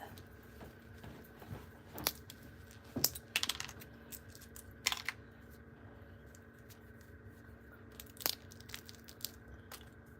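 Epoxy coating cracking and peeling off a real hard-boiled egg shell: faint, sparse crackles and small snaps at irregular intervals, a few sharper clicks standing out over a quiet background.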